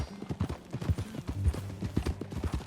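Horse hooves clip-clop in a steady walking rhythm in Red Dead Redemption 2, close and moderately loud, with faint low rumbling underneath.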